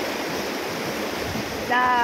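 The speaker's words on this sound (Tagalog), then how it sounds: "maganda yung pag-agos ng tubig ngayon" A stream runs strongly after heavy rain in a village, a steady broadband rush of flowing water with a brief tonal sound near the end.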